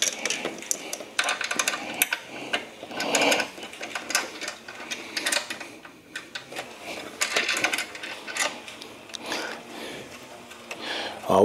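Crimping a fitting onto a reduced-barrier AC hose for a Holley mid-mount setup in a G-Body car, heard as repeated clicks, clanks and metallic ratcheting in uneven bursts close by, with no talking.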